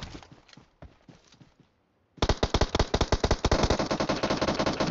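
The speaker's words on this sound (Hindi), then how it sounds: "थोड़ा फायरिंग सा चल रहा" Gunfire in a mobile squad shooter game: a sparse run of shots, a short pause, then a loud rapid burst of automatic fire, close and dominant with no talk over it.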